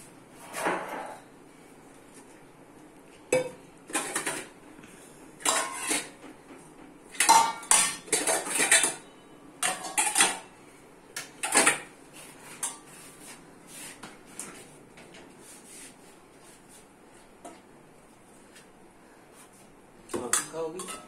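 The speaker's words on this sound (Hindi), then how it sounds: "अच्छे से ब्लैक पेपर को मिक्स कर लेते हैं इस तरह।" Metal spoon stirs and scrapes Maggi noodles with black pepper in a pan, giving repeated clinks and clatters in uneven bursts with quiet gaps, close up and fairly loud.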